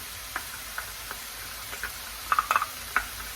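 A jackfruit stir fry sizzling softly in a pan as barbecue sauce goes in, with a low frying hiss and a few light stirring clicks near the end, no talking.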